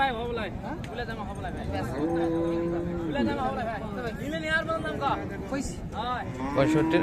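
Friesian cows, some with calves, moo in long drawn-out calls at a busy rural cattle market, several animals overlapping amid steady crowd chatter and people talking nearby.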